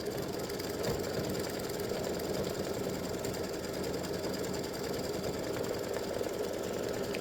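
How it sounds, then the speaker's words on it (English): A home embroidery machine stitches the outline of a bird's tail as a placement guide, giving a steady, close mechanical whirr with a fast stitching rhythm that holds without a break for several seconds. "It's going to stitch the outline of where the tail should go, so you don't have any issues of placement."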